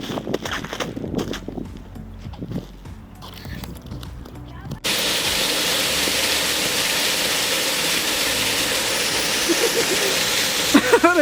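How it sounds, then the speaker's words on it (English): Waterfall at Stones Creek near Nordegg, heard as a steady broadband rushing roar that comes in abruptly halfway through and holds loud and constant, after a stretch of footsteps and rustling. "Apparently there's a waterfall down here."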